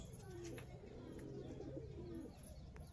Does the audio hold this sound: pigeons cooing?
yes